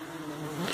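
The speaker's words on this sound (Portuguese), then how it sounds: "Muita abelha aqui ainda." Dense, steady buzzing of many stingless borá bees in an opened, heavily propolised hive box, close and continuous, swelling slightly toward the end.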